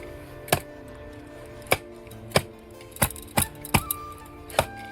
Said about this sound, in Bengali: প্রথমে মাছের মাথাগুলো আমি কেটে পরিষ্কার করে ধুয়ে নেবো